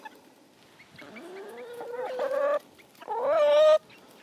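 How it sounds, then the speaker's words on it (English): Chickens cluck and croon near the microphone while pecking at garden tomatoes, rising into two longer drawn-out calls over quiet background. "I definitely can tell that they eat a lot more since I have so many more chickens now."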